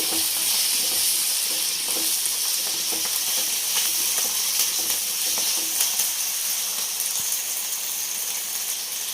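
Potatoes fry in a pan for a sorghum roti meal, giving a steady broadband sizzle and hiss with small crackles and occasional stirring clicks, close and continuous with no talk.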